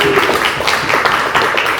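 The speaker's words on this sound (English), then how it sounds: "Can we clap it up for Ryan?" Close, loud applause from a small audience at an author talk and book signing, dense rapid hand claps continuing steadily throughout with no voices on top.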